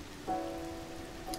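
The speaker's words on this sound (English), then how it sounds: "it's 2:30 in the morning and it's raining" Steady in-game rain falls across a dark landscape in The Legend of Zelda: Tears of the Kingdom, a continuous soft hiss with faint tonal game sounds layered briefly over it.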